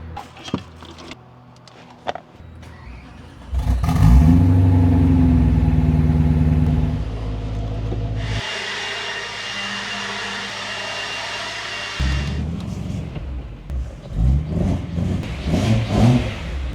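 A car engine that had been sitting unused runs loudly nearby, surging through a long rev without knocking, holding a steady high drone, then dropping back to a rough, uneven idle.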